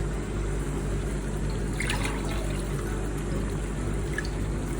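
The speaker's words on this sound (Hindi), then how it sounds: "तो अब हम इसमें जो है वो पानी शामिल करते हैं।" Water pours steadily into a pot of cooking goat heart, a continuous close splashing and trickle over a constant low background hum.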